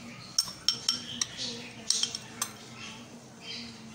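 Chicken gets mixed with mayonnaise, black pepper and salt in a bowl, with a spoon clinking and scraping against the sides in irregular taps and a soft wet stirring underneath.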